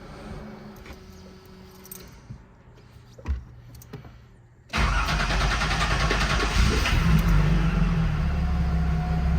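Nissan 280ZX engine cranking after sitting a week, a few starter turns before it catches and settles into a loud, steady idle rumble close by.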